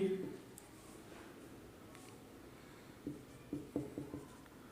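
Faint scratchy pen or marker strokes as a question is written out during a reasoning class, with a few short bursts clustered near the end over a soft room background.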